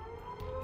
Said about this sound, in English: Yeah, that's the siren that an attack is happening on NLA,